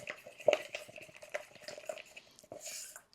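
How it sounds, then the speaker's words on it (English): A mixture being stirred and scraped around the sides and bottom of a container during an electric guitar build, producing soft, continuous scraping and clinking strokes at close range, with a sharper knock near the start. "Make sure to scrape the sides, scrape the bottom."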